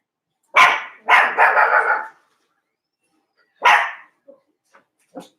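A small dog barks nearby in a quick volley of sharp barks, then, after a pause, a single bark and a few faint short yips.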